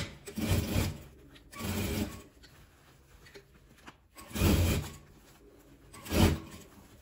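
Sewing machine stitching around a patchwork fabric phone holder, heard as four short, soft whirring bursts separated by quiet pauses, close and fairly faint.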